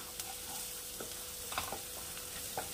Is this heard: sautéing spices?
yes